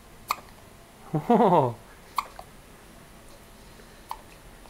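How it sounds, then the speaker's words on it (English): A little girl hiccups a few times, the short, sharp catches spaced a second or two apart in a quiet room, with a brief adult exclamation between them. "You got the hiccups?"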